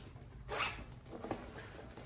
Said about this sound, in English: Has a little zipper pocket.